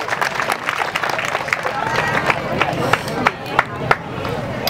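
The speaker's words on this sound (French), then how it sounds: "Population de Wolesebougou, applaudissez l'ambassadeur Ouvrier." Crowd applauding an ambassador in Ouéléssébougou, Mali, at an outdoor 26 March commemoration, with steady massed clapping and a hum of voices and sharp individual claps standing out.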